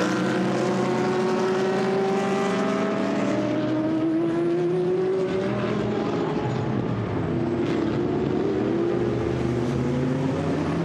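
Mercedes and Ferrari GT race cars in a Blancpain GT Sports Club qualifying race at Misano, engines droning loud and sustained as they pass, with rising and falling pitch sweeps throughout.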